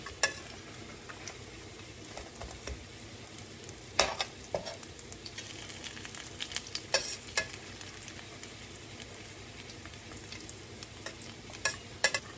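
Salmon croquettes fry in a pan with a constant close hiss of sizzling oil, dotted with occasional sharper pops and crackles, and no one speaking.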